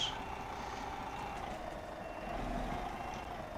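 In the driving game Euro Truck Simulator 2, a B-train truck backs up with a steady electronic reversing beep repeating over a low engine rumble throughout.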